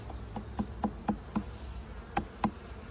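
A steady low buzz of bees hums throughout, punctuated by several sharp, evenly spaced taps or knocks close by.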